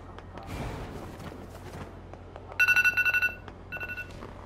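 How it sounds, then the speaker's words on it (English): An alarm goes off on a nearby device during a NieR:Automata gaming session, two bursts of rapid electronic beeping, the first a quick run of pulses and the second shorter, over low background hum and faint knocks. "The alarm just went off on another device."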